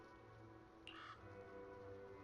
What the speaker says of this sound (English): I heard a crow in the background.